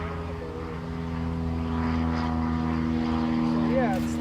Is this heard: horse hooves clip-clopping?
no